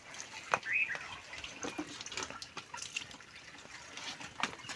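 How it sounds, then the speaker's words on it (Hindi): Cold spring water trickling and splashing from a mountain spring that feeds a village supply, a soft continuous babble with scattered drips and small splashes, close by with no talk. "इस चश्मे की खूबसूरती ये है कि ये ख़त्म नहीं हो रहा, पानी आ रहा है"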